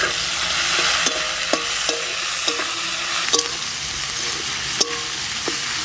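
Onions frying in a pan, with a steady bright sizzle broken by several sharp clinks and scrapes of a utensil against the pan, close and fairly loud, without speech.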